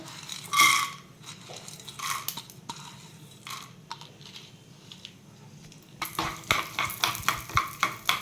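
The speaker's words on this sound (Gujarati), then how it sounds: "હવે દાળિયા છે ને એની કચાશ ભાગે ને ત્યાં સુધી આપણે એને શેકાવા દેવાના." Roasted chana dal (daliya) stirring in hot oil with cumin in a pan, a soft close sizzle under repeated scraping and rattling strokes that grow quicker and more regular toward the end.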